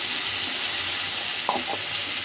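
Potatoes fry in a pan with turmeric and salt, a steady close sizzle with a couple of brief stirring scrapes of the utensil, no talking.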